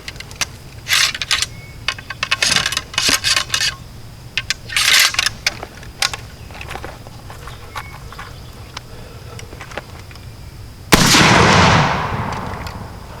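Rifle shots fired at a target while comparing cartridges outdoors. Sharp, distant cracks come in an uneven string, then a single louder nearby blast rings out and decays near the end.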